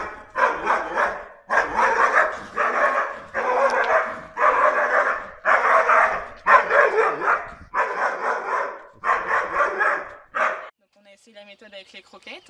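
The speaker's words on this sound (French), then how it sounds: "Elle aboie quand même" A Belgian Malinois barks in a steady, close, loud series of about ten sharp barks in a row, then trails off into a few faint, thin whimpers at the end.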